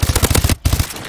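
Rapid automatic gunfire from a Call of Duty Black Ops 3 multiplayer match comes in a loud, close burst of evenly spaced shots, pausing briefly before a few more rounds.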